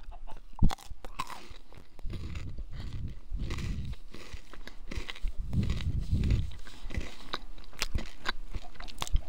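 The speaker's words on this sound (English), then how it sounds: "I'm just going to eat my crunch bar and whatnot" Crunch chocolate bar being eaten close up, with repeated crisp bites and chewing in uneven bursts, fairly loud and without talk.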